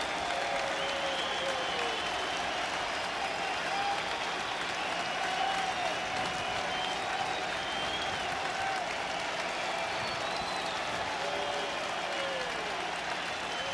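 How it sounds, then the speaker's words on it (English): A baseball stadium crowd cheers and applauds steadily at a Houston Astros versus Chicago White Sox playoff game, a broad continuous roar with no breaks. "You gotta love that crowd trying to get their team out of this big jam right here"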